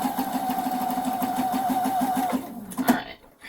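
A sewing machine stitches fabric in a fast, steady mechanical whir, close by, then stops abruptly, leaving a few soft clicks and handling sounds.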